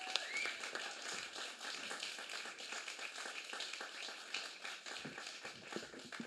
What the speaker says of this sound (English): So can everyone give a huge applause for Jean Burnett reading Heather Child